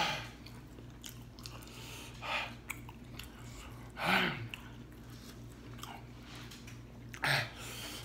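Close, wet chewing of a twice-as-spicy wet burrito, slow mouthfuls with a few louder bites and heavy breathing over a steady low hum, without talk.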